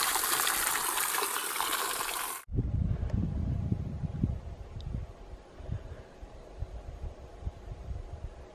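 A clean, cold stream flows beside the Pacific Crest Trail between South Lake Tahoe and Chester, a steady rushing gurgle close to the microphone, preceded by a burst of loud wind noise that cuts off abruptly.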